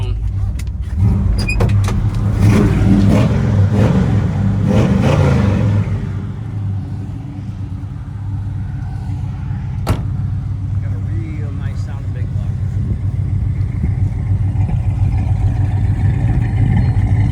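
A 1972 Chevrolet El Camino SS with a 402 engine pulls away with a steady low rumble. A brief whirring mechanical sound comes early and a sharp click falls near the middle, while the engine drones on to the end.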